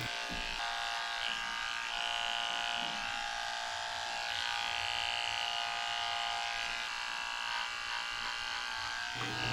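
Electric clipper fitted with a 30 blade shaving the hair inside a Shih Tzu's ears, a steady close-up buzzing hum that runs unbroken, with only slight changes in pitch as it moves.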